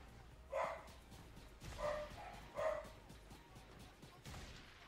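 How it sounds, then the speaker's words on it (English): Household dogs barking indoors in the background during a Fortnite battle royale livestream, three short bursts spaced about a second apart, moderately distant and muffled. "my dogs are barking"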